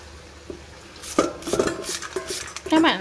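Kohlrabi is grated into long thin strips on a kitchen shredder, giving short scraping rasps in uneven bursts close by, with clinks of kitchen utensils in between.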